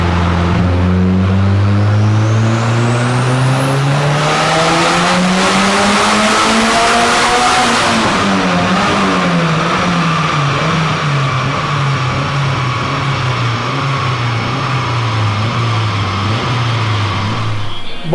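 A turbocharged Honda Civic coupe engine revs hard and loud, climbing steadily in pitch to a peak, then dropping and holding a high drone as the car runs at speed, with tire and exhaust noise filling the long, close recording.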